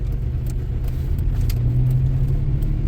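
A 2000 Chevy S10 pickup with a swapped engine pulls away in first gear, giving a loud, steady low engine rumble from inside the cab with a rising hum midway and no talking.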